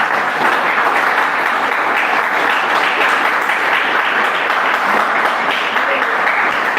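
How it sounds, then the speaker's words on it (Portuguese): A church congregation claps in a steady, dense wash of applause that holds at an even level for several seconds, with faint voices mixed in. "Os irmãos podem dar uma salva de palmas para Jesus?"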